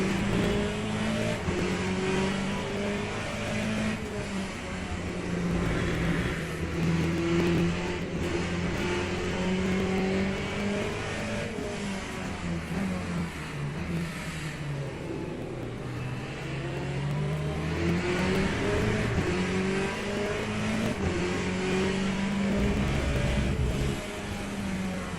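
A Corvette GTE-class race car in Le Mans Ultimate laps Bahrain, its engine droning loud and continuous with rising and falling pitch through gear changes and throttle lifts, with no talk.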